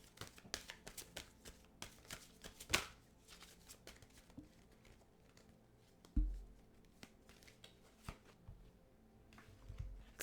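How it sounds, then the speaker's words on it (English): Deck of tarot-style cards being shuffled by hand, soft irregular riffles and flutters with a few sharper taps and bumps, quiet and close, with no talking. "I'm going to start to shuffle my deck"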